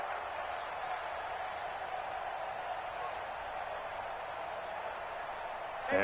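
Steady stadium crowd roar at a Bills vs Panthers NFL football game, a broad continuous wash of noise filling the whole stretch and swelling slightly louder at the very end.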